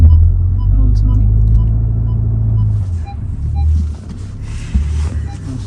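A Volkswagen Tiguan 4Motion SUV rolls slowly downhill on an off-road test track. A loud, low engine and road rumble drones steadily, then eases and bumps unevenly, with brief talk inside the cabin.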